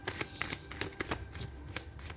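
A deck of playing cards is shuffled close by, with a quick series of crisp riffling snaps and flutters and no speech.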